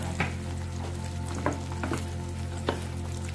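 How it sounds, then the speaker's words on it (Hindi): Tomato paste and spices sizzle in a pan over a low flame for stuffed dal dhokli, a continuous close frying hiss with occasional spoon-stirring ticks and no talking. "अपना टमाटर वाला पेस्ट डाल देंगे। फ्लेम लो ही रखेंगे।"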